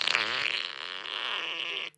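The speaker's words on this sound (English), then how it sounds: "10 seconds of fart in response to a breakup message" A two-second recorded fart, loud and close, a single continuous raspy buzz that cuts off abruptly at the end.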